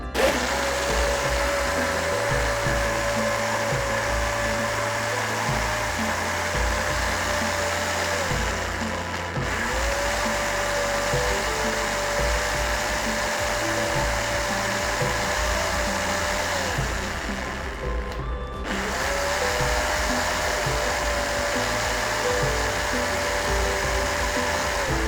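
Blender crushing fruit for a smoothie runs as a steady loud motor whir for the whole stretch, with two brief dips where the pitch drops and climbs back, and no talking.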